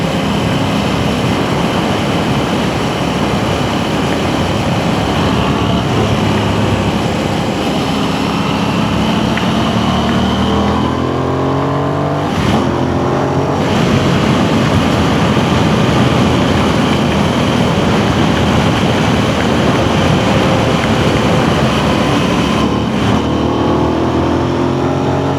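An Aprilia Tuono 660 engine accelerating, a loud sustained drone rising in pitch through gear changes, overlaid by heavy wind roar as the bike picks up speed.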